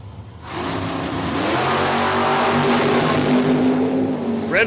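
Silver 1967 Chevrolet Chevelle launching down the drag strip at Cordova Dragway, a loud engine rising in a steady roar, then a brief whine near the end.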